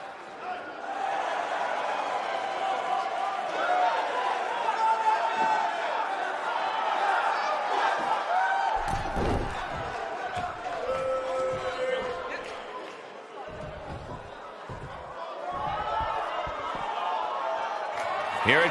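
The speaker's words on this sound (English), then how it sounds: "boy, is this crowd fired up" Steady, loud crowd roar filling a wrestling arena in WWE 2K19, a live show in Los Angeles, with thuds of in-ring impacts later on.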